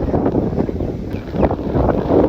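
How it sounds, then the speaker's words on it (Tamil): Strong wind blows outdoors in a garden, making a loud, steady, rumbling rush with gusty swells throughout and no talking. "காற்றோட சவுண்டு."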